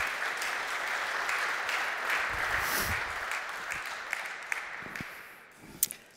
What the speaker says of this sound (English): please give a big, big round of applause.